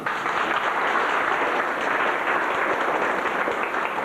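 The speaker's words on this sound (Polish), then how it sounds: "duże oklaski" Applause for the president at a Polish angling association meeting in a hall, a dense, steady burst of many hands clapping close by, filling the whole moment without a break.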